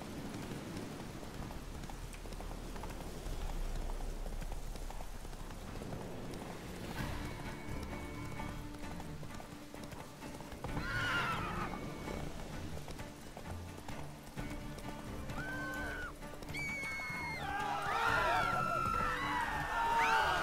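A horse in The Witcher 3 gallops with a steady run of clip-clop hoofbeats and gives a brief neigh, under rain and game music, while a person talks over it.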